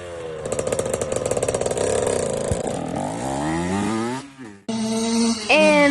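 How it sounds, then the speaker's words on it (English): A homemade dirt bike engine runs loud and close, buzzing and revving with rising and falling pitch, cutting out briefly near the end before roaring back to a high rev. "he asked to showcase his dirt bike"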